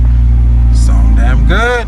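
A BMW E90 engine running at a steady, loud idle with a deep rumble throughout, while a voice speaks over it near the end.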